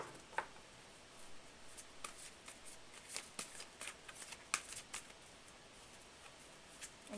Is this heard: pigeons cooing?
no